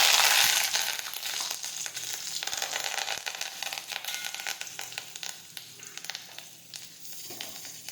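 Asafoetida, cloves, dried red chilies and curry leaves hit hot oil for a Gujarati dal tadka, a loud, crackling sizzle that bursts up at first, then settles into steady popping and spattering with no voices.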